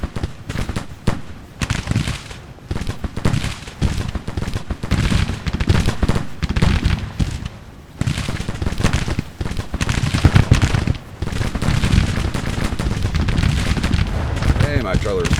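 Musket and artillery fire in the video game Grand Tactician: The Civil War sounds as dense, crackling volleys of rapid shots with heavier booms mixed in, continuous and loud, while someone talks over the battle.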